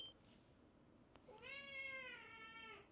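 A pet cat named Pinto, a grown-up male, lets out a single drawn-out rising meow, close and clear in a quiet room, with no talking over it.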